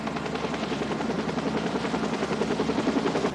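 Medical life flight helicopter flying a trauma patient from a scene to Portland, a steady loud rotor thump and whine with a rapid, even chop and no voices.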